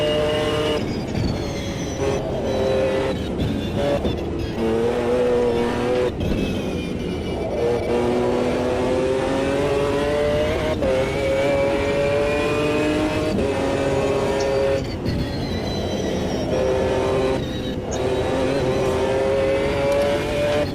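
A GT1 race car on the Nordschleife in Automobilista 2 accelerates out of the pits, its engine note climbing steadily and loud through repeated gear changes, with brief dips between shifts over a continuous mechanical roar.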